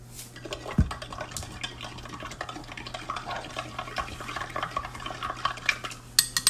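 A spoon stirs salt into water in a container, giving a continuous, close clinking and scraping with light swishing throughout.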